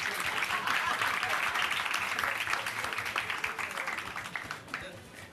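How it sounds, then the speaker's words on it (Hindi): A studio audience at a Pakistani TV talk show claps in a dense, lively burst that fades gradually over several seconds, the applause sounding moderately near and filling the room. "आप लोग तालियां बजा बजा के थक जाएंगे"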